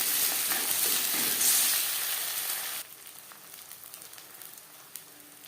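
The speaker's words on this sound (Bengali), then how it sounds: "পেঁয়াজের সাথে ডিম বেশ ভালো করে মিক্স করে দেব।" Beaten eggs mixed with onions fry in a hot pan for a potato-egg bhujia, a loud steady sizzle for about three seconds that then drops to a quieter crackle with occasional pops.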